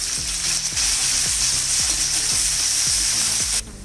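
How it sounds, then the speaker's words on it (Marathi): Curry leaves and green chillies fry in hot oil in a kadhai, a loud continuous sizzle and crackle close up, with regular scraping stirs against the pan, before the sizzle drops away abruptly near the end. "मिरची थोडीशी परतून झाली की यामध्ये कढीपत्ता घालायचा।"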